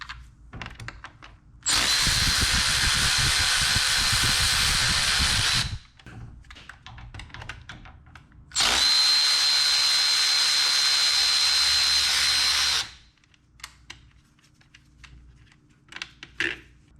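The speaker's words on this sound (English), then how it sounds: "I'm going to be using my new Milwaukee fuel ratchet" A new Milwaukee Fuel cordless ratchet spins off spark plug bolts on a Subaru EJ WRX engine in two long, steady, loud bursts of about four seconds each, with quiet clicks and handling noise in between.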